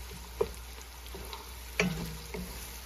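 Onions soften in a pan before meat goes in, a quiet soft sizzle with a few small clicks and clinks of stirring, nothing else heard.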